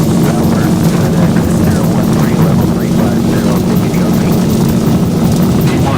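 Lion Air airliner jet engines spooling at takeoff thrust, a loud steady roar with a constant low hum filling the whole clip from inside the aircraft, with cockpit voices faintly audible underneath.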